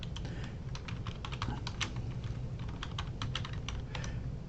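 Someone types an ID on a computer keyboard, a close, steady run of quick key clicks at an uneven rhythm over a faint background hum.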